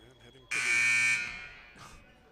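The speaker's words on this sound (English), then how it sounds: "They just love pressing that buzzer," A loud, sustained electronic scoreboard buzzer at a girls' high school basketball game sounds for about three-quarters of a second, then trails off into gym noise with a brief second burst, heard close up with crowd murmur around it.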